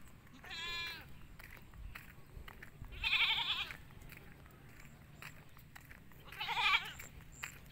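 Two separate bleats from a pregnant goat lying down on a farm, each a short wavering cry, several seconds apart against a quiet outdoor background with faint rumble.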